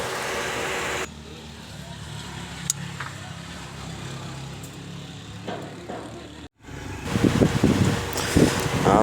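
A 1992–2000 Honda Civic drives along with a steady low engine and road rumble, with wind buffeting the microphone and a person talking over it.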